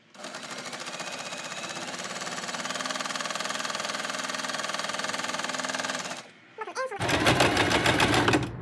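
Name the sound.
sewing machine stitching a zigzag seam on bag lining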